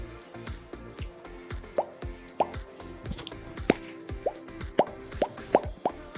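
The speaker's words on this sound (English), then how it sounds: "what if you use it with water droplet?" Water droplets plopping one after another, a string of bright, distinct drips spaced irregularly and growing more frequent, clear and close, set against a faint low background wash.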